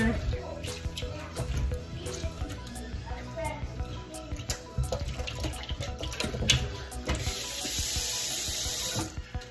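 Tap water runs into a kitchen sink while raw chicken is washed with lemon juice, a continuous splashing hiss broken by clattering handling sounds, heard up close.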